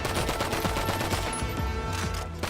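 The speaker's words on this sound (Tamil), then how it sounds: "புல்லட் மட்டும் பறந்து வருது, ஆளை காணுமே." Rapid automatic gunfire in the video game GTA 5 Online, dense bursts of overlapping shots and impacts filling the whole moment, loud and continuous.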